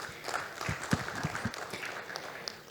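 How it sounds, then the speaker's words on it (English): Scattered audience applause for a panelist at a conference session on digital financial infrastructure, a handful of distinct, fairly faint claps over a quiet room rather than a full ovation. "On peut applaudir Philippe."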